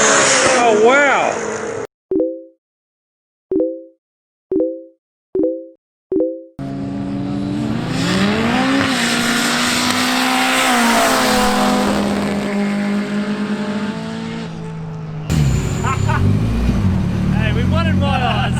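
Race cars launch at a roll racing event. Five short, evenly spaced starting beeps are followed by loud engine roars that rise as the cars accelerate away. Excited voices can be heard at the start and end.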